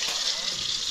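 Squid fries in hot oil with a steady, bright sizzle and fine spattering crackle, close and continuous through a brief moment.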